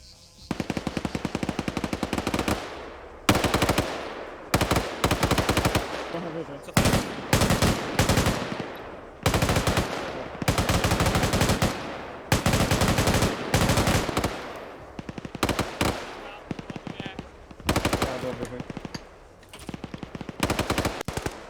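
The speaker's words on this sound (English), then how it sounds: "Threw it short, so he reverts to firing his rifle" Rifle gunfire in a competitive team shooter match: repeated bursts of rapid automatic fire in loud, sharp volleys separated by short gaps, several overlapping weapons cracking throughout.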